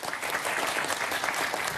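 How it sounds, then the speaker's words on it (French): A studio audience at the French quiz show Questions pour un champion claps in a steady, dense wave of applause that fills the whole short stretch. "Applaudissons-le quand même."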